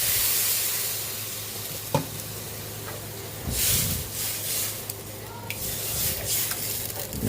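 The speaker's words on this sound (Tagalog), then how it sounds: "Lagyan na natin ng water." Sautéed miso sizzles and hisses in a hot pan as water is poured in, a sharp crackling burst around the two-second mark followed by steady frying sizzle and steam, loud and close with no talking.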